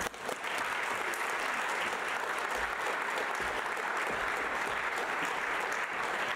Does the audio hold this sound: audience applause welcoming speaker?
yes